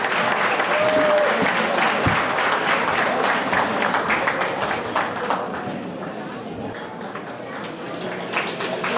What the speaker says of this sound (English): Big round of applause for Errol.